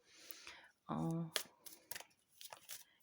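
Fortune-telling cards being shuffled by hand: a burst of quick riffling and brisk papery flicks, close and clear, alternating with someone talking.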